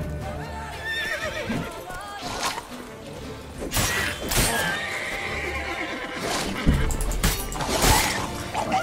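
Roach, the horse in The Witcher 3 video game, whinnies and neighs loudly several times amid game combat noise, explosions and hoofbeats, with no talk over it.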